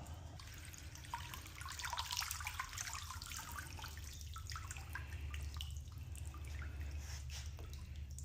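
Water rinsing pond plants, a faint steady trickle and splash of running water with scattered drips, heard quietly over a low background hum and without any talking.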